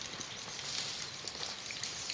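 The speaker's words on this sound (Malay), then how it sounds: "Kita berteduh kat sini hujan." Steady light rain falls around hikers sheltering at an abandoned bungalow on Gunung Hijau, Taiping: a continuous soft patter and hiss of drops with scattered small ticks, no talking.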